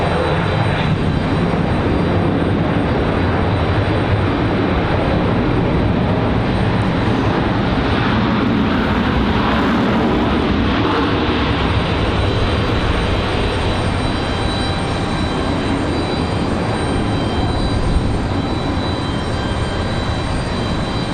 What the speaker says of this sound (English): Bit of a bumpy arrival there for Southwest.